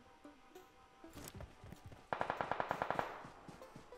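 A teammate fires a rapid burst in a video game: about ten evenly spaced, loud shots in quick succession, with softer scattered game sounds before and after.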